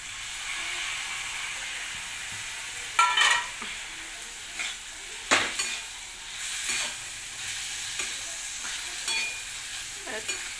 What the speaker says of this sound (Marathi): जिरे मोहरीची फोडणी दिली मी फक्त.